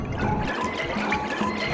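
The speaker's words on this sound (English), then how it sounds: "I toilet flushed myself in" Toilet flush in the Battle Block Theater video game, a short rushing, gurgling swirl of water at moderate loudness, continuous for under two seconds.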